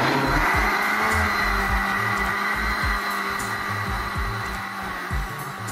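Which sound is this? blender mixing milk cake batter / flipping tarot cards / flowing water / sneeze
blender mixing milk cake batter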